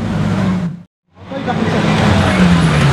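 A loud supercar engine roars close by, cutting out abruptly for a moment before surging back in a sustained, rising blare of exhaust as it approaches.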